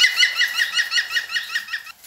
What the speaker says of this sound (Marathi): त्याला आपण मराठीत सुतार म्हणतो, सुतार पक्षी.